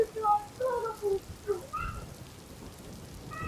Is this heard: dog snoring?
no